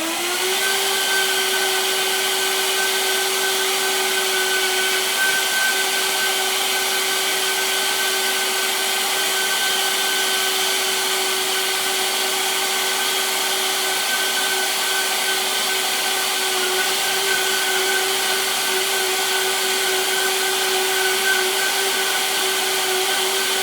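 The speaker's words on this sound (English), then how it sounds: "Now we're going to the Professional Series 750." Vitamix Professional Series 750 blender running steadily at maximum speed, a loud continuous motor whine with a sustained high-pitched tone and no talking.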